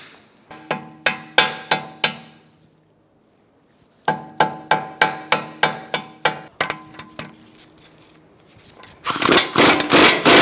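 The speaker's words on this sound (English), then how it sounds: "you may have to use a rubber mallet to tap it in there a little bit" Rubber mallet tapping a front left CV axle into place on a 2013-2022 Buick Encore: two bursts of sharp, close, evenly spaced knocks, about eight per burst with a pause between, then a louder rough clatter at the end.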